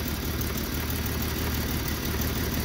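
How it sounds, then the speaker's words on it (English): A Jeep engine idling rough and uneven, a steady close mechanical rumble that continues without a break and has no talking over it. "it's just kind of running like weird at idle"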